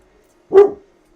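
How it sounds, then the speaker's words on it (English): A single sharp bark from a pet dog indoors, loud and close, cutting through near silence. "my dog kind of tends to go nuts every time there's a sound outside"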